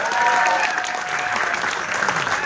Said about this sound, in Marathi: एकदा जोरदार टाळ्या वाजवायचे माझे निर्माते